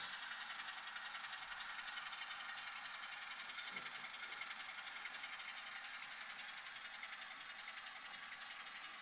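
Train passing at an outlying rail yard, heard as a steady, moderately distant rumble and hiss with a brief clank midway, no voices.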